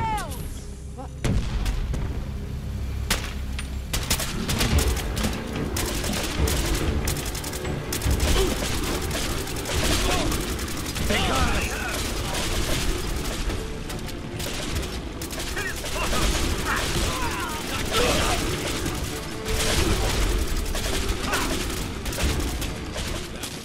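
Dense, continuous gunfire and booming blasts from a fog-bound battle against Gulpers in Fallout 4 Far Harbor, loud and relentless throughout, with shouted voices occasionally cutting through.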